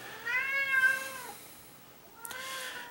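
A cat meows repeatedly in two drawn-out, crying calls, loud and close, with a short pause between them and no talk over it.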